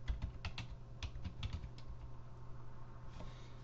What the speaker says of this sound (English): In the search field, type in msconfig.